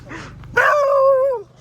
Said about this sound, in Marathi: हे श्वान.